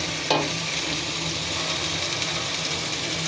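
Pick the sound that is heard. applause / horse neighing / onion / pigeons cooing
onion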